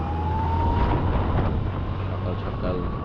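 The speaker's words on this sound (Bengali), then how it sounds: "একটা অ্যাম্বুলেন্স দেখি সাইড দিয়ে দেই।" Ambulance siren on a foggy early-morning road, heard from a motorcycle as a steady wailing tone over strong wind and engine rumble.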